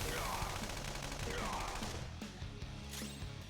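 Gunfire from a gun attack in Persona 5 Royal, a dense burst of rapid shots and crashes that thins out toward the end, loud and close, with battle noise layered over it.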